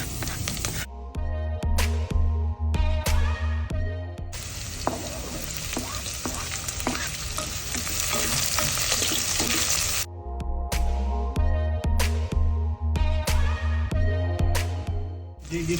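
Garlic and onion sauté in a pan for beef kaldereta, a steady sizzling fry with stirring scrapes, joined by background music that drops away in the middle stretch where the frying hiss stands mostly alone.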